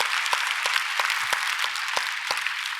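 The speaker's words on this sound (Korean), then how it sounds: "하나님 앞에 박수로 영광을 돌립니다." A church congregation claps together in steady rhythmic applause, dense and sustained throughout, with sharp hand claps standing out from the crowd.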